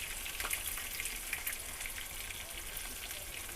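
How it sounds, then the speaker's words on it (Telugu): Chicken pieces frying in oil, being turned over as they brown: a quiet, uneven crackle with scattered pops and spits over a low background hum. "అటువైపు ఇటువైపు మనం తిప్పుకుంటే ముక్క అనేది బాగా మనకి వేగుద్ది"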